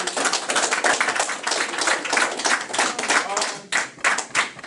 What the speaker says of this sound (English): One more round of applause for my guys, man.